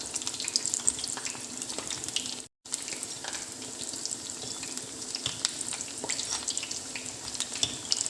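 Jackfruit seed vada sizzling in hot oil, a steady dense crackle of frying with scattered pops and faint watery bubbling, continuous and close, broken by one brief silent gap.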